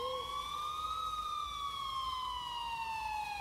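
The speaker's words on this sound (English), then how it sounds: "I finally heard sirens in the distance" A police siren wails in the distance, one steady rising and falling tone sounding faint and far off, alone with no voices.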